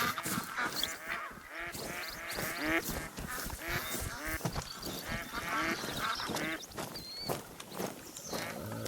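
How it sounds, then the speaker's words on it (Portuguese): Waterfowl in the hunting game The Hunter: Call of the Wild, a dense flock of honking geese and quacking ducks calling continuously and overlapping, loud and nearby. "Ó, tem pássaro ali."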